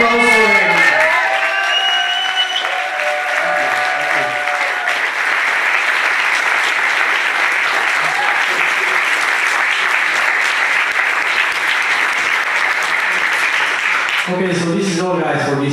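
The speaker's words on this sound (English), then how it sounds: "So, big applause for him." A crowd at a short film and music festival awards ceremony gives a long, even round of applause for a winner, with someone speaking briefly at the start and again as the clapping stops.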